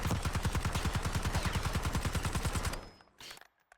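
Automatic rifle fire in Black Ops 6 sprayed at a recoil test pad: a fast, even stream of loud, close shots for almost three seconds, then it stops short into a quiet tail.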